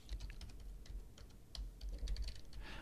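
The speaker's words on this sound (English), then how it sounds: "I can type in my name." Someone types on a computer keyboard, a quick run of light, close key clicks at an uneven pace, alone and fairly quiet.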